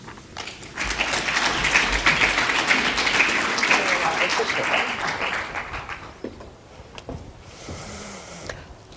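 An audience at an entrepreneurship lecture breaks into broad sustained applause for a speaker coming onto the stage, loud and steady for several seconds before thinning out and fading.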